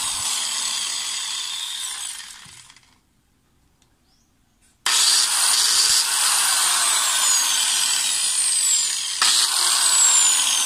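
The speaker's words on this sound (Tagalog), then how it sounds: "Ang problema ng angle grinder na to ay nag-spark ang kanyang armature at may kakaibang tunog pag pinandar natin" An angle grinder with a sparking armature runs with a loud, steady high-pitched whine and an odd rough tone, cutting out for about two seconds midway before spinning back up at full level.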